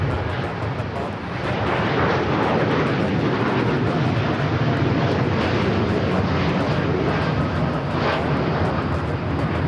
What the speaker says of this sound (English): This is Japan Airlines Flight 61 taking off to Tokyo Narita on the 787-9 Dreamliner